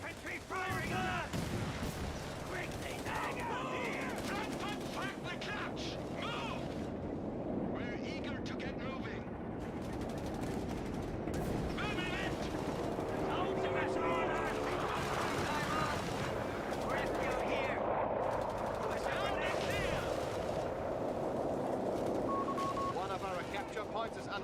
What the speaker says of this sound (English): Infantry firing on us!